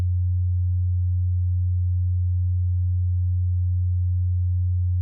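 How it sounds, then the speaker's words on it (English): Pure 90 Hz sine wave from a synth, a steady deep bass hum held at constant level with no variation, alone for five seconds. "Here we have a frequency of 90 Hertz. As you can hear, it sounds bassy."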